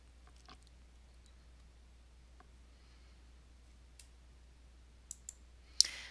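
Computer mouse clicks while working in the Canvas course site, a few soft isolated clicks spread across a quiet stretch, with a sharper, louder click near the end and no talking.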